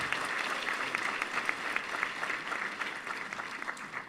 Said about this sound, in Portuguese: Vamos dar mais uma salva de palmas para o pessoal.